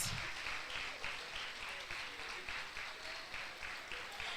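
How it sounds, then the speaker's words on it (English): Parents keep up steady, sustained applause at an induction ceremony for a physiotherapy graduating class, with many hands clapping together in a dense, continuous wash that fills the hall. "Please, our parents, clap for them."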